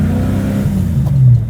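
A loud, close supercharged V8 swapped into a BMW E30 rumbles deeply with a rising rev, its low growl filling a short burst from inside or beside the car.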